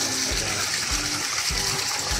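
Water pouring and gushing through a recycling system at a restaurant, a steady close splashing flow with a faint rhythmic pulse.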